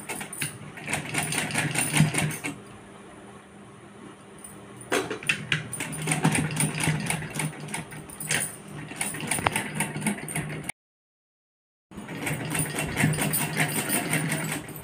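Sewing machine stitching a handkerchief pouch, running in bursts of rapid, steady needle strokes with short pauses between runs and a brief silent gap near the end.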